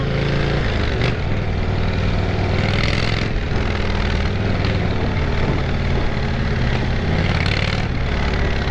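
An Indian Martini 1811cc prototype motorcycle engine drones loudly and steadily up close, a dense continuous roar with brief surges in pitch as the throttle shifts.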